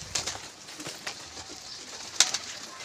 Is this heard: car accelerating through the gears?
no